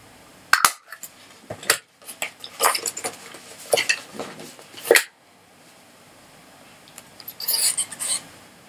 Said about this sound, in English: I'm going to go in with my small oval punch, and I'm going to cut out a little finger slot